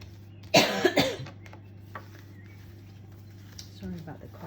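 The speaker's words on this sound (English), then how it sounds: "Sorry about the coughing." A burst of close, loud coughing, two or three harsh coughs in quick succession, then a quiet room with a steady low hum and a faint throat sound near the end.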